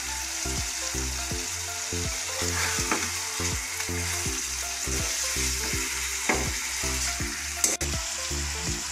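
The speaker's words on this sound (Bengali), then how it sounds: "এটাকে মিনিট দুয়েক হাই ফ্লেমে ভালো করে প্রথমে কষিয়ে নেব।" Chicken tehari sautéing on a high flame, steady loud sizzling of frying rice and meat with a regular rhythm of spoon scrapes and stirring strokes against the pot, no talking.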